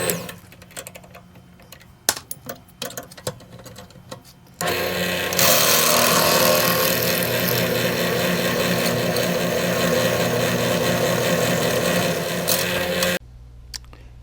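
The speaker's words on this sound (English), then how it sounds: "for the tap and go ahead and drill it" A power drill boring a tap-size hole in metal for a DIY catfishing rod rack, running as a steady loud whir for about eight seconds after some quieter handling clicks, then stopping abruptly.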